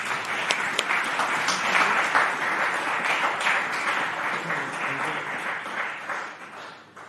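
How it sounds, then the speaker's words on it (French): A church congregation breaks into sustained applause and cheering, a dense wash of clapping with scattered voices that holds steady for several seconds and then slowly tapers off. "On peut acclamer le Seigneur."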